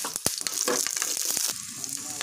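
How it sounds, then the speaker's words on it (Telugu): Green chili pieces frying in a little oil in a pan: crackling sizzle with sharp pops and spatula scrapes against the metal, close and busy throughout. "పచ్చిమిర్చి ముక్కలు వేసుకొని ఫ్రై చేసుకోవాలి"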